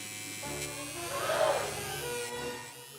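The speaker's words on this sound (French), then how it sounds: "La chose a pris le rasoir." Electric razor buzzing steadily as it shaves the hair off a Barbie doll, a close continuous hum that swells slightly in the middle and holds on alone.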